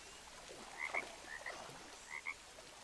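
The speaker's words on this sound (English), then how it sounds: "I hear frogs." Frogs croak near a stream in the video game Lay of the Land, quiet chirpy croaks arriving in three short paired bursts over a soft steady ambient bed.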